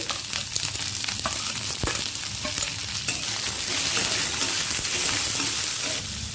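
Diced onion and chopped garlic fry in oil with five-spice seeds for a Bengali katla fish head dish. A steady, close sizzle carries light stirring clicks throughout, with no talking.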